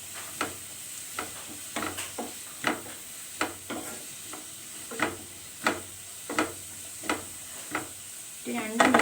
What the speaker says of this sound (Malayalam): ഇതിലേക്ക് നമുക്ക് അരിഞ്ഞു വെച്ചിരിക്കുന്ന പച്ചമുളകും കുറച്ച് കറിവേപ്പിലയും കൂടി ഇട്ട് കൊടുക്കാം. നന്നായിട്ടൊന്ന് മിക്സ് ചെയ്യുക.